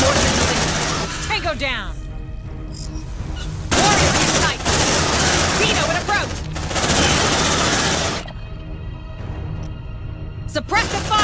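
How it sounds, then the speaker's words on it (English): A sentry gun in Aliens: Dark Descent pours out loud, continuous automatic fire in long sustained bursts that briefly pause and resume, with a soldier's voice calling out between the volleys. "Sentry almost ready. Sentry activated."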